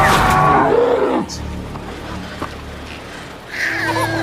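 A large wild bear in a film scene gives a loud, rough growling roar that opens the sound and fades after about a second, leaving quieter rumbling with faint background noise.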